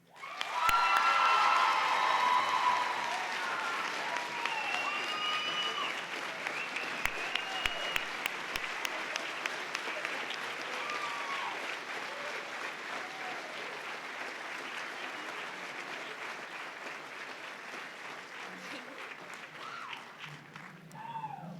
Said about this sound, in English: let's give a huge round of applause for the National Central Region Vice President, Mamie Hurdle.